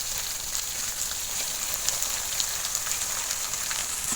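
Steady rain falls during outdoor cooking of a Bengali country chicken curry, a dense continuous hiss of drops pattering on surfaces, fairly loud and even throughout, with no voices.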